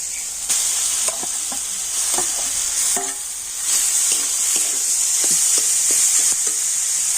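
Softened tomatoes and boiled potatoes frying in oil in a pan, a steady bright sizzle with repeated scraping strokes of a spatula stirring through the mixture at an even pace.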